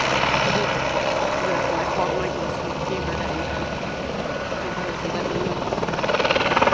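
Steady whirring helicopter drone, fairly loud and continuous, as the helicopter inspects Amtrak power lines, with faint voices mixed underneath.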